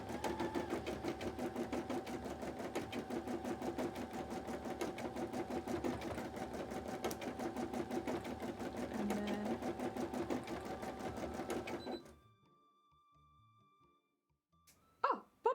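An embroidery machine stitching cosplay embroidery, a fast steady mechanical chatter of needle strokes running close for about twelve seconds before stopping abruptly, followed by near silence and a few faint handling knocks.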